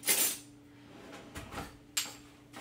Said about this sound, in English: Just have to get my little spoons out